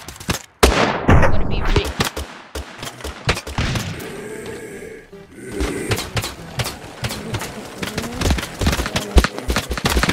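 Units firing in a large battle in Totally Accurate Battle Simulator, with a sniper among them, dense volleys of loud gunshots and rapid fire over a noisy battlefield din, continuous and close.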